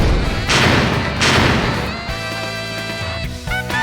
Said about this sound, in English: a series of explosions rock the ground